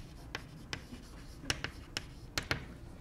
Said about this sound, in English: Okay, so now I'm going to write my profit function.